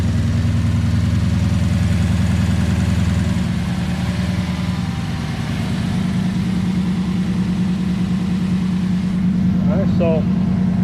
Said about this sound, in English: Alright, so pretty much I'm just gonna let it idle.